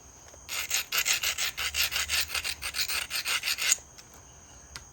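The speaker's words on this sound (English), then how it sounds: "I'll just grind that. Grind that kind of strong." A stone point is ground by hand, producing a steady series of about fourteen rhythmic rasping strokes, close and loud, that stop abruptly, followed by a couple of faint taps.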